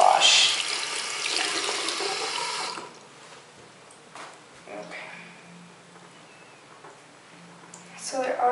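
Tap water splashes loudly into a sink for a few seconds while makeup brushes are washed, then drops to faint trickling with small clatters, and a voice talks over parts of it.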